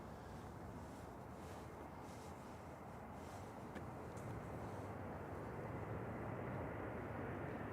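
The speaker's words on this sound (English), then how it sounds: "EasyJet from Alicante here, A320-200" EasyJet Airbus A320-200 in from Alicante at Manchester Airport, a steady broadband engine roar held at an even, fairly faint level throughout, swelling only slightly toward the end.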